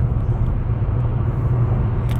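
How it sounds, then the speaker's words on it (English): Steady low road rumble from inside a moving Chevy Volt on a concrete road at cruising speed, a constant drone of tire and wind noise with no talking. "This is your worst case scenario for noise, for wind noise and tire noise in this car."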